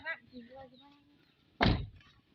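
Car door shut firmly: a single loud, close thunk arriving after a voice speaks briefly, followed by quiet.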